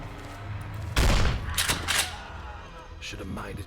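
Game gunfire aimed at the player in Dread X Collection 2, a sudden loud burst of shots, then a few more bangs that fade, with a voice speaking near the end.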